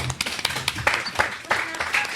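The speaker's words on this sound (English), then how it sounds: "I'm just clapping because that is a punchline for you" Scattered hand claps sound in a small press club gathering in New York, a few sharp slaps breaking through steady talk that continues underneath.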